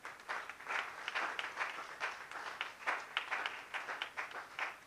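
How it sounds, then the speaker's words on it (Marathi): A church congregation claps in thanks to God during a Marathi sermon, with steady overlapping handclaps lasting several seconds at moderate distance, some rhythmic pulsing and no voices on top. "टाळी वाजवून देवाला धन्यवाद"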